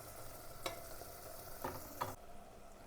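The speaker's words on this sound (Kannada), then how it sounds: "ಇವಾಗ ಹುಣಸೆಹಣ್ಣು ರಸ ಹಾಕ್ಕೊಂಡಿದ್ದೀನಿ. ಇದನ್ನು ಸ್ವಲ್ಪ ಮಿಕ್ಸ್ ಮಾಡ್ಕೊಳ್ಳೋಣ" Tamarind juice being stirred in a cooking pan for vangi bath, with soft scraping strokes and a few brief clanks of the spoon against the pan over a low, steady background.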